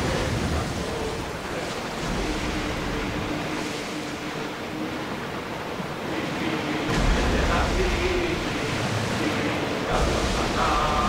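Open sea waves in the video game Assassin's Creed Odyssey, a continuous rushing wash of surf and wind with swells rising and falling, loud and steady, with faint voices underneath.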